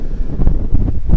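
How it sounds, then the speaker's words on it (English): Wind buffets the microphone outdoors in heavy, low rumbling gusts that swell and ease throughout, loud and close with no talking. "Bit windy."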